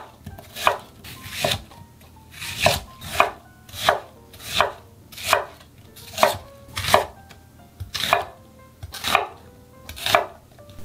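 A knife chops vegetables on a cutting board while preparing Korean dongchimi, about fourteen crisp, evenly spaced thuds close up, with no speech.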